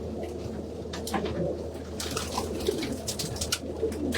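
Blue checker racing pigeon held in hand, cooing in low throaty bursts amid steady background noise and scattered handling rustles.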